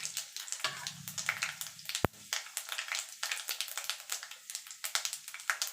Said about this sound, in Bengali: ফোড়নটা একটুখানি ভাজা ভাজা করে নেব যাতে ফোড়ন থেকে সুন্দর একটা গন্ধ বেরিয়ে আসে